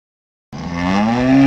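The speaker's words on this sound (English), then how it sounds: "But Alice got a cow anyhow." A cow gives one long, drawn-out moo that rises slightly in pitch. It is loud and close and starts abruptly after a moment of silence.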